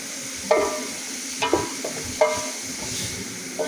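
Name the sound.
carrots and capsicum stir-frying for fried rice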